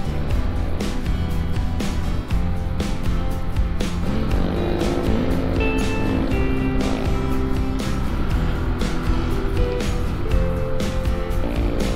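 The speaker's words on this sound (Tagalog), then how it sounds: "yung mga ingay na sasakyan." Steady, loud road traffic noise from passing vehicles with a continuous engine drone and rumble, heard from a moving ride in a city setting.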